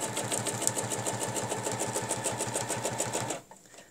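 A sewing machine overstitches a line on fabric, its needle hammering in a fast, even mechanical rhythm for over three seconds before it stops abruptly, leaving a quiet hum.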